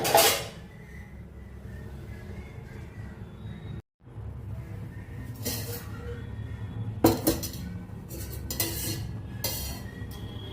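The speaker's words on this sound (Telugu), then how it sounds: "స్టవ్ మీద పెనం పెట్టేస్తున్నాను" A pan goes onto a stove with metallic clinks and clatters, a sharp knock at the start and a cluster of clanks later, over a low background hum, with no one talking.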